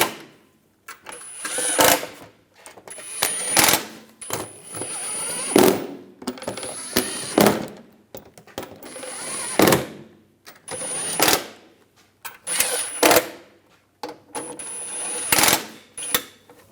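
Starter bolts on a 2006-2009 Mercedes-Benz E350 are tightened with a ratchet, giving about eight separate bursts of rapid clicking and metallic clatter at regular intervals, close by, with short quiet gaps between bursts.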